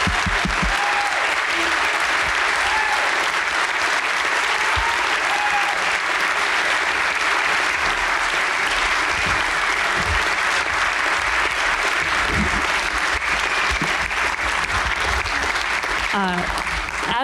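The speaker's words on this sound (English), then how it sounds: "Can you give a big round of applause for Autumn and Anya" A cinema audience at a film Q&A gives a long, loud, sustained round of applause for the star and director, the dense clapping unbroken for the whole stretch.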